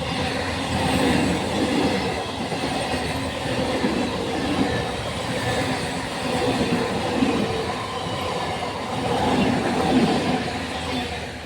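A train passing on a railway line on a hot, sunny day, with a loud, continuous rumble and wheel clatter from close by, faint squeals mixed in, sustained throughout without talking.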